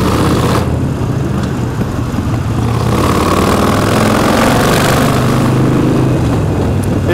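An air-cooled Harley-Davidson motorcycle engine idles loudly and close by, a steady low rumbling throb that holds evenly throughout with no talking.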